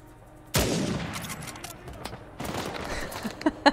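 Rifle gunfire in the video game Uncharted 4: a loud sharp shot followed by a decaying burst of game noise, then more scattered shots and impacts toward the end.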